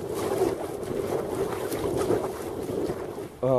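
Wind blows hard against a hooded membrane suit outdoors, a steady loud rushing roar across the whole stretch, with a brief voice at the end.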